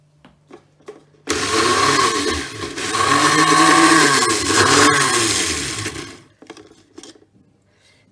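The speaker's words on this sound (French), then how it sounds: "je mets l'oignon et le persil que je vais hacher en n'oubliant pas de le brancher parce que sinon ça n'ira pas" Loud electric chopper whirring for several seconds as it minces onion and parsley, starting abruptly and cutting off, close with light kitchen clatter around it.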